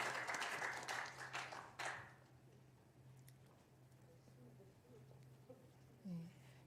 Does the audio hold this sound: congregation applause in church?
yes